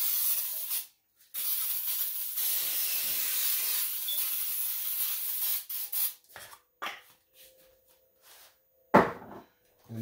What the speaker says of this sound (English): before we get our cake mix in the bundt pan, let's spray it down